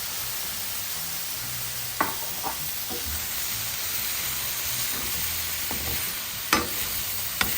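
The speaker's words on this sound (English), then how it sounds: "into the saltfish and all those ingredients, I'm going to add the ackee" Ackee tipped into saltfish and other ingredients frying in a pan for a Jamaican breakfast: a steady hissing sizzle with a few scattered clicks and spoon scrapes, plus a high constant whine in the background.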